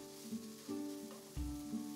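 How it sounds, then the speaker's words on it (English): Shrimp and pork sizzle together in a pan while being stir fried, a close continuous frying hiss punctuated by several louder bursts as the food is stirred and turned, with no talking. "Now add the shrimp and continue stir frying for another 2 minutes."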